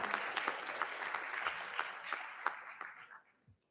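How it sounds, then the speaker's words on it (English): A school board meeting audience applauds Lafayette School students of the month, a lively crowd clapping with distinct individual claps standing out, tapering off and stopping just before the end. "Another round of applause for our Lafayette School Students of the Month."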